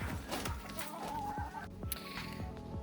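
Several chickens cluck and murmur up close while being fed scratch grain, with steady overlapping calls and no talking.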